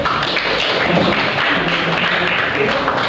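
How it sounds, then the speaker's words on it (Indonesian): Classroom applause for a student group, a dense wash of clapping filling the whole stretch at moderate loudness, with a voice faintly underneath. "Oke, tepuk tangan dulu buat kelompok 1."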